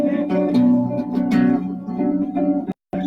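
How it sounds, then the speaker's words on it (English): Guitar strumming a minor add 9 chord, with warm ringing notes that sustain and shimmer close up. A second soft strum follows, and the sound cuts off briefly near the end. "The minor add 9 is the one. It sounds like this."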